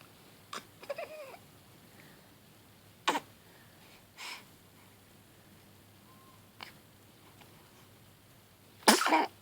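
A baby sneezes in a quiet room, giving several short, sharp bursts spaced apart, the last one the loudest, with no talk.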